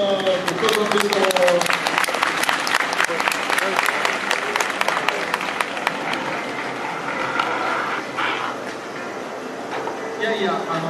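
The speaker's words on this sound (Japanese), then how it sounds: "拍手お願いします" Audience applause at a car demo run at Mega Web Festa 2011, a crowd clapping quickly and densely at first, then thinning out and tapering, with people talking over and after the clapping.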